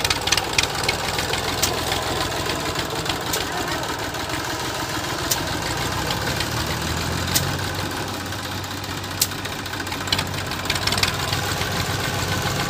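A tractor engine runs at a river sand mining site on the Maini river, a steady chugging idle with knocking pulses and occasional clanks, fairly close, with faint voices in the background.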